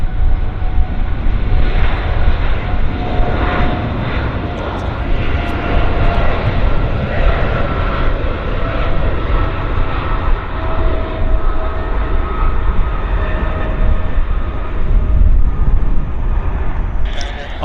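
A jet airliner at Vancouver Airport roars steadily and loudly for the whole span, a broad engine rumble with whining tones, while faint voices murmur beneath it.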